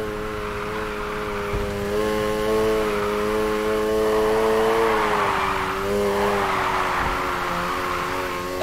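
A race car drifting in NFS Heat, a sustained engine whine with shifting revs under a hissing tire squeal that swells midway and again near the end, loud and close.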